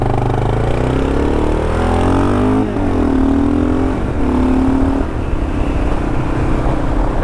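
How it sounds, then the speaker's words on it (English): A 2022 Kawasaki KLR650 fitted with an FMF exhaust is ridden, its loud, steady engine drone rising and falling in pitch as it pulls away and shifts through gears, with no talking. "So this is how the FMF sounds when you're riding the bike."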